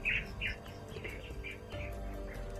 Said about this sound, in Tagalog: Parang parang ibon lang siguro yun.